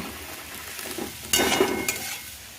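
Onion and capsicum hit a hot pan and sizzle, with a burst of frying and stirring that flares up loudly partway through and then settles into a softer crackle.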